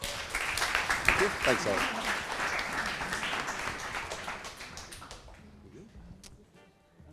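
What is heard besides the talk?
audience applause for a speaker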